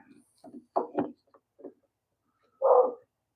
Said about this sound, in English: Dog's got to bark, barkity bark, bark.